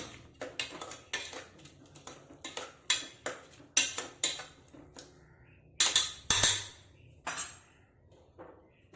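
A spoon stirs an onion, tomato and kanthari chili masala in a pot with no oil, making close, irregular knocks and scrapes of metal against the pot with quiet gaps between them.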